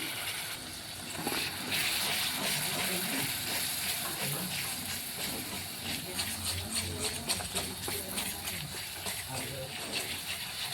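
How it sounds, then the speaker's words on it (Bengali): Spice paste for a mushroom curry frying in a pan just after a little water is added, giving a steady, loud, hissing sizzle with bubbling that holds for about ten seconds. "সামান্য পরিমাণ একটুকু জল দিয়ে দেবো মশলার জলটা একটুকু দিয়ে দিলাম"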